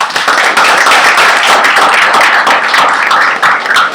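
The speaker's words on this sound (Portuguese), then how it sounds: "Gostaria de convidar todos para saudá-los com uma salva de palmas." Loud, close applause from an audience at an OAB/DF debate, brisk overlapping claps that keep up without a pause.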